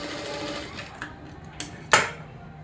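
A sewing machine stitches a blouse lining in quick mechanical bursts, running steadily and then stopping, with a couple of sharp clicks near the end, close and alone.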